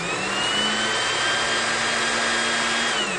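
An electric motor salvaged from a Makita drill runs on 12 volts, giving a loud, steady high-pitched whine with a faint tonal hum beneath it, sustained without a break.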